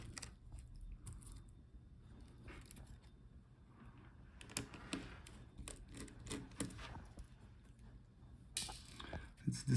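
Small screws being undone on the screen cable of a Dell Latitude 5310 laptop, giving soft intermittent ratcheting clicks and scrapes of a screwdriver close by, with rustling handling noise between turns.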